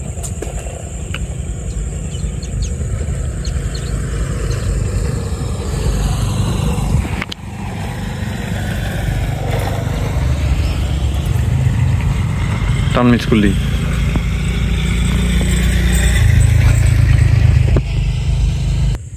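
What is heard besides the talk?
motorcycle approaching and passing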